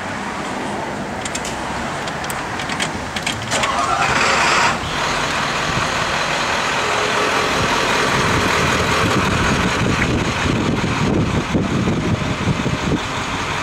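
A 1957 Chevy convertible idles nearby while its power top raises, a fairly loud steady engine rumble with a brief mechanical surge partway through.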